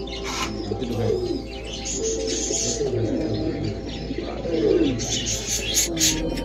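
Pigeons at a crowded pigeon market coo in soft, rolling calls that repeat throughout, with occasional sharper chirps and faint wing flutters over a constant background murmur.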